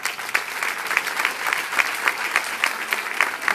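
Audience clapping at a community gathering in Mexico, lively and uneven with individual claps standing out, continuous throughout.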